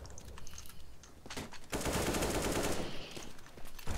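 Rapid automatic gunfire in CS:GO rattles in bursts, then a dense sustained spray of shots, loud and close, with no voices over it.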